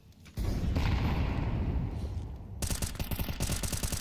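Grenade blasts in a Counter-Strike pro match ring out as a loud sustained rumble, followed by a run of sharp rapid gunfire bursts near the end.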